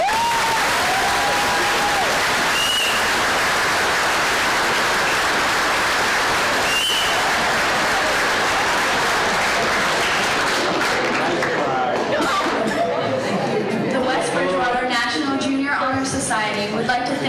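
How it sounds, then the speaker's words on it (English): A school audience at a National Junior Honor Society induction applauds new members in a long, dense, steady wave of clapping that fades toward the end as voices and chatter take over. "Let's all give our new members a round of applause."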